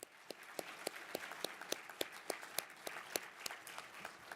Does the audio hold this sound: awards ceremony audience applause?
yes